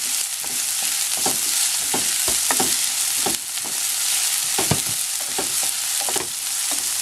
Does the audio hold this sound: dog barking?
no